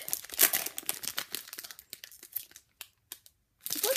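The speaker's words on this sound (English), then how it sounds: "No, I can't open this pack, I actually can't." Plastic wrapper of a trading card pack crinkling and rustling up close in irregular bursts, trailing off into near silence before another burst of crackling.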